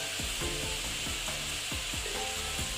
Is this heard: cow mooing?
no